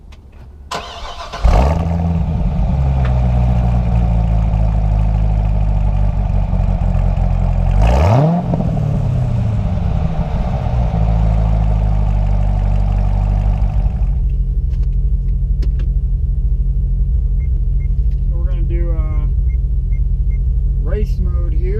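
A 2013 Corvette ZR1 60th Anniversary Edition starts up with a loud bark, then settles into a deep, rumbling idle and gives one sharp rev, heard close from inside the car, with faint chirps and clicks toward the end.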